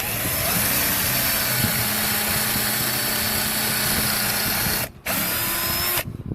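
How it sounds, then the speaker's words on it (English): Power drill boring angled pocket holes into 2x4 lumber for a farmhouse bench, a loud continuous close whine that cuts out near the end, then restarts briefly. "take my drill bit and drill out a couple of little pocket holes on the insides right here"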